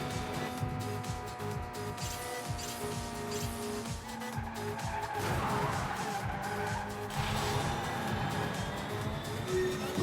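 Car tires skid and squeal during crazy driving through Miami in the racing game Asphalt: Injection, over steady engine drone and game music, with the screech swelling louder in the second half.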